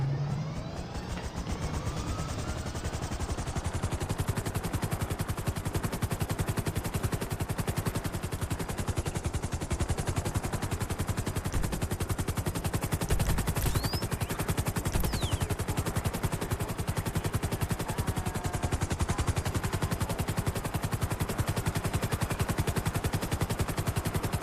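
Dense, sustained bursts of automatic gunfire crackle loudly and continuously, rapid rounds overlapping with a low rumbling background of engine or rotor noise, with no clear pauses.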